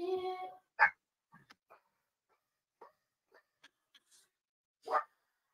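Small dogs bark and yip in short scattered bursts in the background of a home, faint and sporadic with long quiet gaps between calls.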